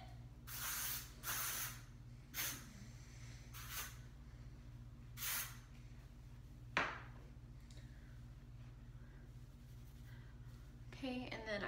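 Several short bursts of aerosol spray hiss at irregular intervals, close by, with a sharp click and some rustling near the end.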